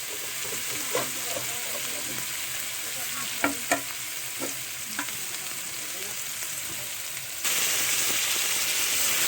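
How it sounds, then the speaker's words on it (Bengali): Fish pieces sizzle steadily in a pan of spice paste that has already been cooked down, a close, continuous frying hiss with occasional stirring knocks, growing louder near the end. "মশলা আমার কষানো হয়ে গেছে এবার মাছগুলো দেব"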